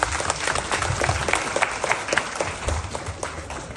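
Applause from a church congregation at a Christmas gathering, a dense steady patter of many hands clapping close by throughout, without pause.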